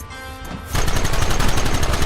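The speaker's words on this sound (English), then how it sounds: "There they are! Open fire!" Rapid gunfire from the Western action video game Red Dead Redemption erupts suddenly and keeps going as dense, loud, overlapping shots and bursts, with no talking.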